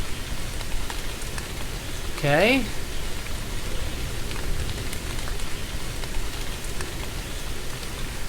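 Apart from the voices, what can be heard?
rain falling in a video game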